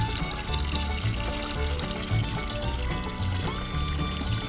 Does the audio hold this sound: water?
yes